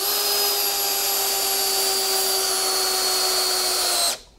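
A power drill drives a screw into wood in one steady, loud, high-pitched whine lasting about four seconds, then stops abruptly, close up with no talking.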